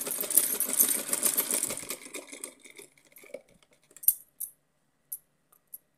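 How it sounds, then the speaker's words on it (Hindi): A sewing machine stitching a small doll's dress runs in a rapid continuous whir for about two seconds, then slows and stops, followed by a few scattered clicks and taps. "मैं अभी सिलाई करके आपको दिखा रही हूँ"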